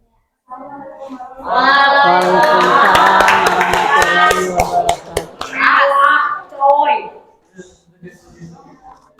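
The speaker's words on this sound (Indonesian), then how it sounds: "Tepuk tangan" A school class claps hands together in a classroom, a burst of close, brisk clapping mixed with children's voices and chatter, then tapering into scattered talk.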